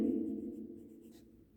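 A marker or chalk scratches briefly on a board in a classroom, one faint writing stroke heard up close beside a low hum, with no talking.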